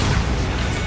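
Bombarda blasting spell cast in Hogwarts Legacy, a loud, dense burst of explosive noise lasting under a second, close and sustained without any talk.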